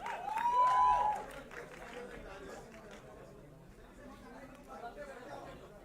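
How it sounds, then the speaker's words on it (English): Audience at a press meet for the film Animal breaks into chatter and scattered clapping, a loud swell in the first second easing into a steady crowd murmur with voices talking throughout. "Can we have a huge round of applause for Team Animal and the trailer?"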